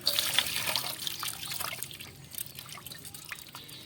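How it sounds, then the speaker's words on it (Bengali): A papaya being washed under running water, a close trickle and splash of water on the fruit with small drips and handling noises, fairly faint and steady, no talking. "আর একটা পেঁপেকে ধুয়ে নেব"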